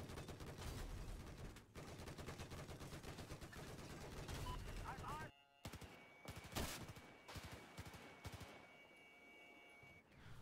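Machine gun fire in a video game, rapid bursts of close automatic shots in quick strings with a short pause, followed by scattered single shots, and voices talking over it.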